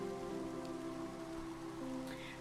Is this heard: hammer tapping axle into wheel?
no